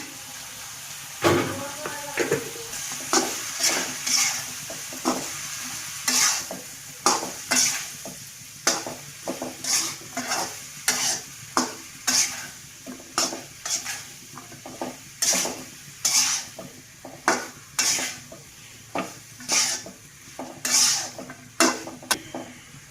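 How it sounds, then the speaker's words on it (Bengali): Turmeric and coriander powder stirred and fried in a pan over low heat for a shoot fish and Malabar spinach seed curry, with a steady sizzle and repeated scraping strokes of a spoon against the pan, close and clear, with no talk. "কম জালে এটা আস্তে আস্তে কষাতে হবে।"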